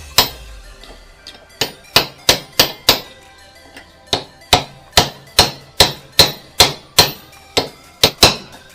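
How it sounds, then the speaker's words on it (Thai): A hammer drives a steering head bearing into the neck of a Strom Gorilla motorcycle, with about sixteen sharp metallic strikes. They come in a steady rhythm, loud and close, with short pauses between groups. "ตอกคอครับตอกคอ"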